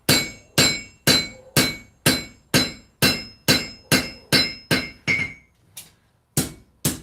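Steady ringing hammer blows fall on the edge of a Bowie knife blade on an anvil, about two a second, each a sharp metallic strike with a short ring, close and loud, with one brief pause near the end.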